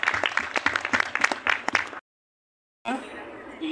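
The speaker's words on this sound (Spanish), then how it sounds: "también un aplauso para Gustavo Petro" Crowd at a rally in Córdoba supporting the people of Ecuador breaks into dense, close applause for about two seconds, then a sudden gap of silence before clapping and crowd noise resume.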